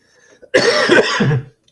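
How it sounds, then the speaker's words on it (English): A single loud, harsh cough burst lasting about a second, close to the listener, with a faint breath just before it. "Loving the cough."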